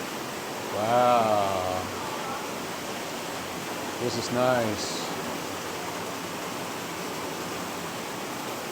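Steady broadband rush of water pouring from a special shower in a cruise ship spa beside a Turkish-style hammam steam room, continuous and fairly even, with brief speech over it.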